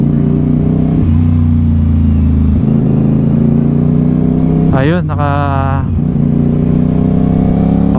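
Heavy road traffic in Las Piñas surrounds an idling CF Moto 450 SR-S motorcycle. A loud, constant engine rumble fills the scene, a horn blares for about a second, and someone talks over it.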